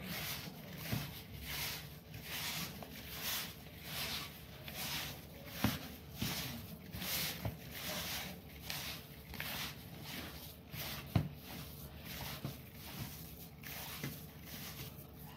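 Butter and oil being rubbed into flour by hand for Alexandrian hegazeya, giving soft, repeated squishing and gritty rubbing in a steady rhythm, close and fairly quiet with no talk.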